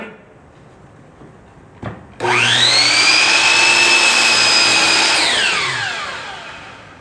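A mitre saw spins up loudly and cuts through a wooden board, a steady high whine holding for several seconds before the motor winds down and fades out.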